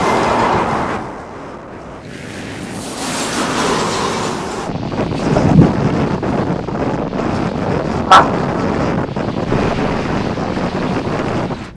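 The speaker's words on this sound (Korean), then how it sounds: "몽골은 바람 때문에 마이크에 목소리가 안 들어가서 후시 녹음을 좀 해야겠습니다." Strong wind in Mongolia buffets a microphone with loud, continuous rumbling roar and gusty swells, no voices heard, during a long-distance bicycle trip.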